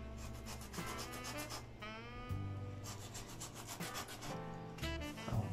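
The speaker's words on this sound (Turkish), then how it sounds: "güzel bir zımpara atıyoruz." Rhythmic, gritty strokes of sandpaper rubbing a tire surface before patching, back-and-forth rasps at a quick, uneven pace, with brief pauses between passes.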